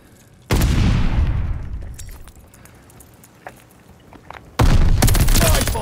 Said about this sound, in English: Strafing run approved on your order.